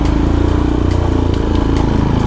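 A Royal Enfield Himalayan motorcycle fitted with a 16-tooth sprocket is ridden, its single engine chugging loud and close in a steady, continuous throb with no talk.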